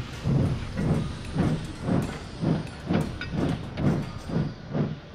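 An animated steam engine pulling a long goods train puffs in an even rhythm, about nine chuffs of hissing steam over a low rumble, steady and fairly close with no talking.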